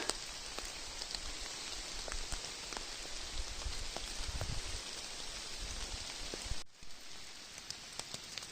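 Rain falling steadily in a Carpathian forest in May gives a dense, even patter and hiss on the surrounding foliage that continues throughout, briefly dipping near the end before resuming, with no voices.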